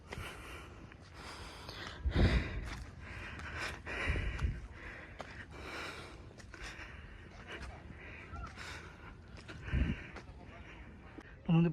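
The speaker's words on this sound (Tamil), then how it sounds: "என்னால் முடியல, மூச்சு வாங்குது" Someone climbs a hillside path to the Ramar hill temple at Alangulam, breathing heavily in labored, gasping breaths close to the microphone, with talk and outdoor noise around them.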